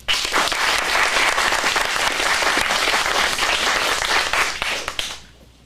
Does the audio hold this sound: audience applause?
yes